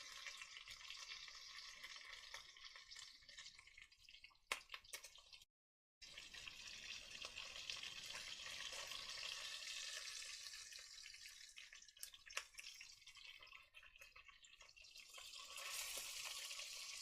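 Meat sizzling steadily in a hot pan just after being flipped, a continuous bright hiss with a few sharp pops and crackles, one brief gap of near silence partway through, no talking.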